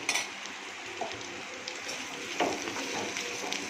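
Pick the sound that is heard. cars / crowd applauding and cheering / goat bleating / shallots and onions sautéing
shallots and onions sautéing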